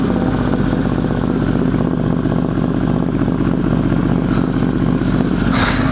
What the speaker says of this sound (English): I don't think many people have heard the Pan America with the Toast exhaust.